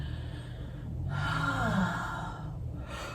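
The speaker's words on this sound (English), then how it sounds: "here we go, yawning again" A single drawn-out yawn during a calming stress-release yoga session, rising over about a second and then trailing off as a breathy exhale, close and soft, with no talking.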